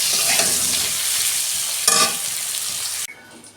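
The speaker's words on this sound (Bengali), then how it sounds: "আলু বেগুনটা আমি 2 মিনিট ভেজে নেব" Potato and aubergine fry in a pan with a steady broadband sizzle, stirring scrapes and clatter running throughout, a brief louder burst near the middle, and the frying drops abruptly quieter just before the end.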